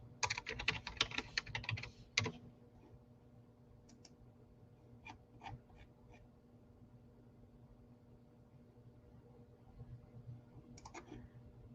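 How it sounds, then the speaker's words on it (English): Keys clatter in fast bursts of typing on a computer keyboard during an online medical symposium session, dense at first, then scattered taps and a final short burst, with no talking. "I'm typing it in right now"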